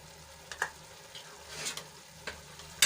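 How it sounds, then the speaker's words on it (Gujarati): Grated onion fries with ginger-garlic-chilli paste in a pan for a capsicum gravy, giving a low steady sizzle broken by a few sharp scraping stirs of a spoon. "આપણી ડુંગળી થોડીક સંતળાઈ જાય એટલે એમાં એક ચમચી આદુ લસણ અને મરચાંની પેસ્ટ ઉમેરીશું"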